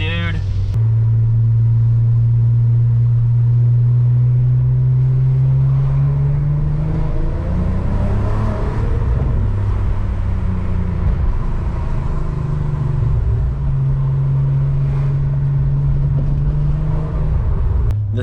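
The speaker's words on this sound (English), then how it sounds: "This is a Magnaflow catback exhaust, still factory cat, factory downpipes." A Volkswagen Jetta wagon with a Magnaflow catback exhaust, factory cat and factory downpipes, rumbles loudly with a deep steady drone and rising revs, recorded from inside the car while a person talks over it.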